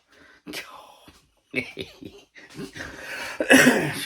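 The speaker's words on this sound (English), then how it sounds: "Still got a bit of a cough." A few sharp coughs and throat-clearing bursts from a person with a lingering illness, close by, separated by pauses, with breathy sounds and a louder burst at the end.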